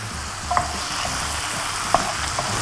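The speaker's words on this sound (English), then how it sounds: "I'm adding about 2 tablespoons of butter." About two tablespoons of butter sizzle steadily in a pan alongside mushrooms, a soft even hiss with a couple of faint clicks, no talking.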